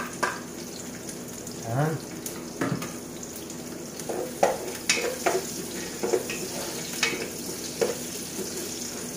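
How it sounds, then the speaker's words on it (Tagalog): Chopped garlic sautéing in hot cooking oil in a pan for a Filipino macaroni soup, giving a steady close sizzle with scattered crackles and stirring scrapes, while a voice speaks briefly over it. "Igisa lang po muna itong bawang."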